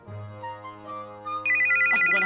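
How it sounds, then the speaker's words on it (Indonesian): A mobile phone rings with a synthetic melodic ringtone, a sustained tone that jumps to a louder, brighter repeating pattern partway through, heard clearly without talking. "Suara HP sendiri aja kagak hafal."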